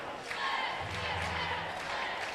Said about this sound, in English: Nick Fisher and the Cavalier fans are the booing you hear in the background